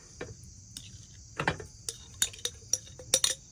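A metal spoon scoops elderberry flowers out of a cooking pot, making scattered clinks and scrapes in irregular bursts, close and moderately loud, with a faint steady hiss beneath.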